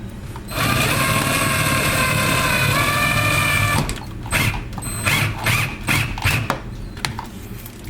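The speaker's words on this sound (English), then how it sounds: "Now, break out our right angle attachment for securing it." A power drill fitted with a right-angle attachment drives screws to secure an occupancy sensor light, whirring steadily and loudly for several seconds before breaking into short, uneven bursts of motor and ratcheting.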